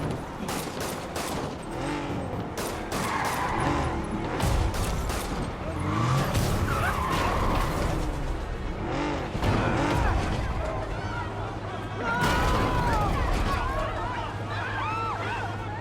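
A high-speed car chase in Marvel's Spider-Man, with tires skidding and squealing over a steady engine roar, crashes and clatter, and voices talking throughout.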